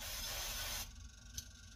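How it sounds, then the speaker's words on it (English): Nonstick cooking spray hisses steadily into a pan for under a second, then cuts off, leaving quiet kitchen background. "Take some of our nonstick spray or any kind of cooking fat."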